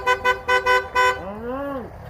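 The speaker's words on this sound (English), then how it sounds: "Honk your horn." A car horn honks in five short, evenly spaced blasts, close and loud, and then a voice speaks.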